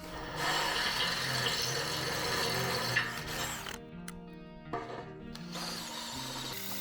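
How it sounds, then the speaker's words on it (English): A power drill with a step bit grinds steadily through steel with a rattling, ratcheting whir, enlarging a hole, easing off midway with brief pauses before resuming. "I went back to a step bit and made the hole larger."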